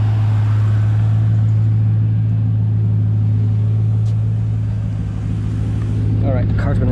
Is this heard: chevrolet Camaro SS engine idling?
yes